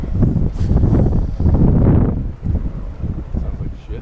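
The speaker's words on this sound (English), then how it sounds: "Windy out." Strong gusts of wind buffet the microphone at a Florida bank fishing spot, loud rumbling bursts that rise and fall, with a brief spoken remark mixed in.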